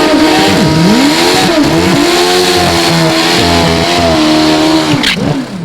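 Two Prostar drag bikes doing side-by-side burnouts at an AMA drag racing championship, their engines screaming loud and sustained at high revs with rising and falling pitch throughout.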